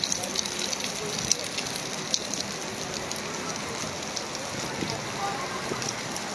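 Steady rain shower falling by the Marikina River, a dense continuous hiss of drops on surfaces and water with scattered sharper patters, moderately loud and unbroken throughout.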